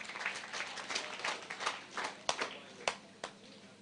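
An audience at a regional girls' summit conference applauds the organizers with a short burst of scattered clapping, a few sharp individual claps standing out as it fades.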